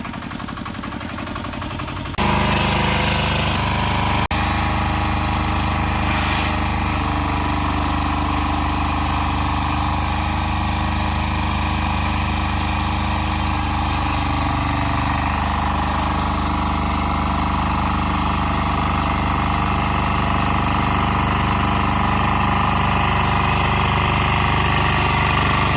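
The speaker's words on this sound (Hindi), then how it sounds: "ये वाला ट्रैक्टर है, इसे हाथ से चलाते हैं।" A hand-operated two-wheel tractor engine chugs and idles continuously in a village setting, loud, close and unbroken for the whole stretch, with a rough mechanical rattle and no speech.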